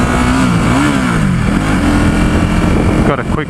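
A 2017 Ducati Supersport S engine drones steadily while riding, its pitch rising and falling slightly as the throttle shifts, loud and close with wind rush, dropping off near the end.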